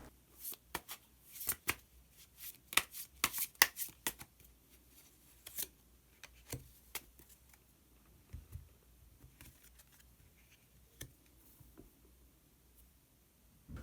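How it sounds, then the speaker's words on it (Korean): Tarot cards are shuffled by hand before a hidden card is drawn, giving irregular bursts of crisp riffling and slapping taps, close and quiet, with pauses between bursts and no voice. "그러면 마지막으로 히든카드 한 장 더 뽑아보도록 하겠습니다"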